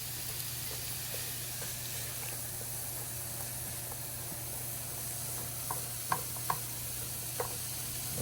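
Three-meat chili cooks down in a pan with a soft, steady sizzle and hiss. A few faint clinks of a utensil come near the end, and the whole thing sounds quiet and close.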